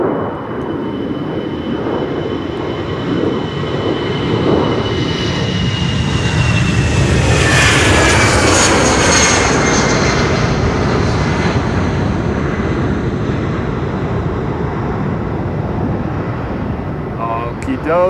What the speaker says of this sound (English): airplane is EasyJet to London Gatwick. It's an A319.